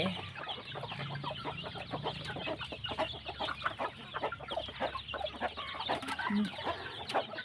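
Chickens cluck steadily and overlapping inside a coop with a sheet-metal roof, a dense close flock with occasional louder squawks throughout.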